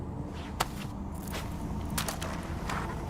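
Footsteps from the Cyberpunk video game: a few soft, uneven steps heard at a low level over a steady ambient hum, with no talking.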